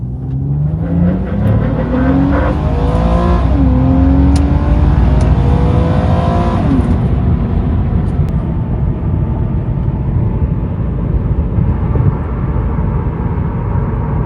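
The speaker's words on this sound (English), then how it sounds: "I just turned traction off now, so we can now do a little 0 to 60" A 2006 Nissan Maxima with traction control switched off accelerates hard from 0 to 60. The engine is loud and close, rising through rev sweeps and shifting gears, then settles into a steady high drone with no talking.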